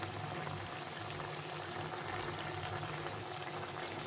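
Pot of vegetables for a Bengali chun fish chorchori simmering in water, a steady, close bubbling boil with a constant wash of liquid noise throughout and no talk.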